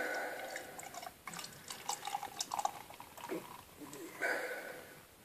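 Amstel Light lager beer pouring into a glass, a soft trickling, splashing liquid with brief drips, fairly quiet and close, heard alone without talk.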